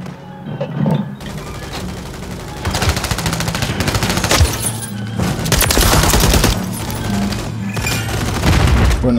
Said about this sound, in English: I heard gunshots near me